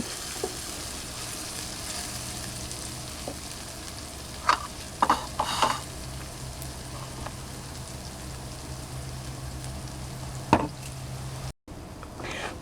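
Garlic and chili stir-fried over low heat in a pan: a soft steady sizzle with occasional scraping and tapping of a utensil against the pan, quiet and close, with no talking.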